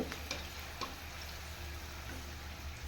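Puran sweet, a sugar-filled traditional pastry, frying in oil, giving a soft steady sizzle and bubbling throughout, quiet and close, with no talk.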